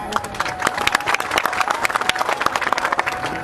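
An audience applauding at a public speech, dense rapid clapping from many hands in a loud sustained burst with a crowd murmur beneath.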